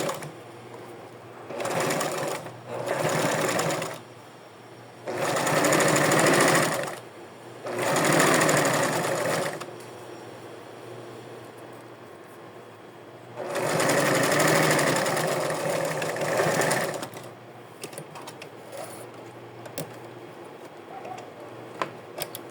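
A sewing machine stitches small doll clothes in several separate bursts of rapid running, with quiet pauses between them.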